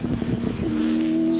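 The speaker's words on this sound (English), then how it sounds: "These two cars very evenly matched, both trying to force an error as they thunder down Conrod Straight once again." V8 touring race cars thunder down Conrod Straight at Bathurst in a 2002 race, a loud, sustained engine roar with a steady high tone near the end.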